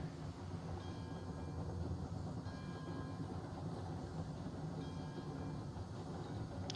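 A freight train in the video game RailRoads Online rolls along its rails, coming back from the iron mine on the return line toward the freight depot. The rumble and rail clatter stay steady and close throughout, with no talking.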